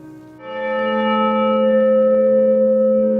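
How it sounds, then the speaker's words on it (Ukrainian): A single large new church bell in a village belfry rings out with a sustained, humming tone that swells and lingers steadily, loud and close. "А новий дзвін голосним дзвоном лине на все село і сповіщає усіх про богослужіння"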